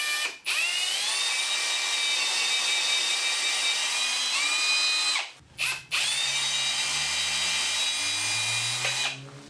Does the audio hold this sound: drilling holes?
yes